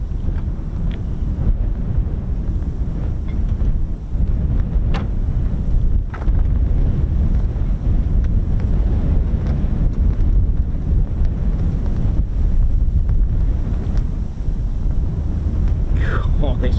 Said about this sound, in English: Oh, this wind is horrendous, especially up here.